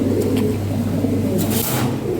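Pigeons cooing in a breeding loft, low soft repeated coos layered close together, with a couple of brief flutters or rustles.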